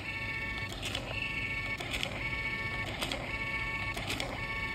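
A small thermal label printer whirs with a repeating mechanical buzz, pulsing roughly once a second with short bursts of clicking, close and fairly quiet.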